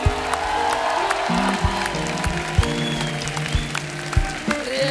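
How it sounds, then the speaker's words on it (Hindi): Studio audience claps at a television comedy show during a special award moment, sustained applause under music and brief voices, with sharp individual claps standing out. "क्या बात है, जोरदार तालियां हो जाए।"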